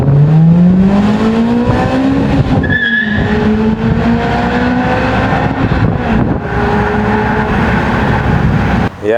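A Toyota Corolla RXi AE111 with a 4AGE 20-valve engine and 94,000 km revs hard at high RPM, its exhaust note climbing steadily in pitch and holding loud and close throughout, with no talking.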